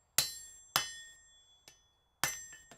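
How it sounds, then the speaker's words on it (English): Blacksmith's hammer strikes in a smithy: four sharp, ringing metallic blows in an uneven rhythm, the third lighter, each decaying with a bright ring, heard close and alone. "Warming up my hammer face that way"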